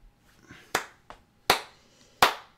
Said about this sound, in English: You didn't clap for her, Dan.